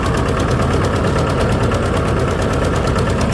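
A tractor engine runs on a farm with a steady, loud, rhythmic chugging idle throughout, close up and without pause.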